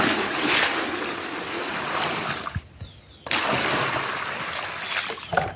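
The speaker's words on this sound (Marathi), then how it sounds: "अजून तर नळाला पाणी आले" Tap water runs into a container at home in a steady splashing gush that stops briefly midway, then resumes just as loud with a few clunks near the end.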